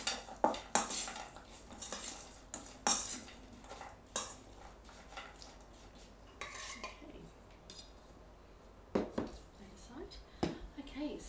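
Sliced apple, sultanas and cinnamon are tossed together in a bowl, with repeated clinks and scrapes of a utensil against the dish, some sharp and close, while a voice speaks quietly.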